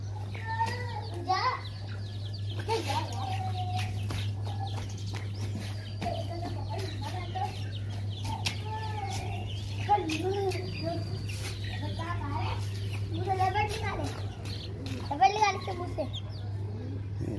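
Hens cluck repeatedly around a home yard, their warbling calls scattered through the whole stretch over a steady low hum, with children's voices chattering and playing nearby.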